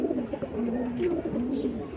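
Madrasi pigeons coo in a low, steady murmur at moderate distance, the soft throaty calls overlapping continuously for about two seconds with no talking.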